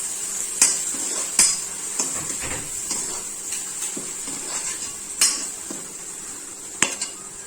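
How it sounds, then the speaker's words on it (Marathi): Tomato being sautéed in a pan for Malvani chicken curry, a soft sizzle under repeated sharp clinks and scrapes of a utensil against the pan, close by. "तर ह्याला मी एकदा व्यवस्थित परतून घेते."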